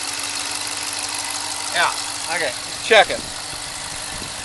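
A 2014 Dodge Charger police cruiser, a former sheriff's vehicle, idles with a steady mid-range engine rumble close by, while people talk briefly over it.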